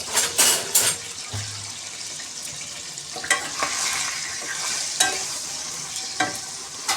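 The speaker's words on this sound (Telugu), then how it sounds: "ఉప్పు పసుపు వేసుకొని బాగా ఒకసారి కలుపుకుందాం." Eggplant being stirred in hot oil with salt and turmeric, a steady sizzle with scraping and stirring strokes and occasional clinks, continuous and close, with no talking.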